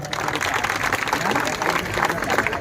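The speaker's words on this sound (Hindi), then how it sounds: "आप शंभू शिखर का आसमान तक तालियां बजा सकते हैं, जोरदार।" Applause from a large audience at a Hindi poetry and comedy gathering in Rajnandgaon, steady clapping that stays dense and loud throughout with crowd noise mixed in.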